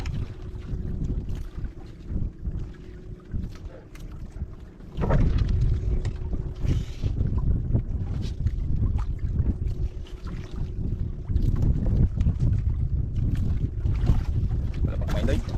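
Boats out on open water with wind buffeting the microphone, a steady broad rumble of wind and water that grows louder partway through, with a faint low engine-like hum underneath.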